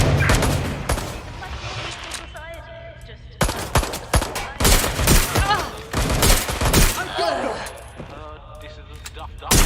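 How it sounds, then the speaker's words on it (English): Bursts of gunfire in the Watch Dogs Legion video game, loud repeated automatic shots and sharp cracks across the whole stretch, mixed with game dialogue and effects. "I'm taking fire."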